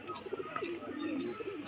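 A pigeon with Kolkata-type eyes offered for sale softly coos in low, rolling, repeated phrases close by, with faint chirps and background noise around it.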